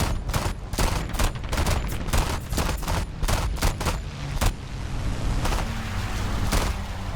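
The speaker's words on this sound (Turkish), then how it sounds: "Böyle bombardıman uçaklarına mermi gidiyor arkadaşlar." Rapid bursts of machine-gun fire from a jet fighter pour into bomber planes in a combat video game, dense sharp cracks repeating almost continuously over a loud engine roar.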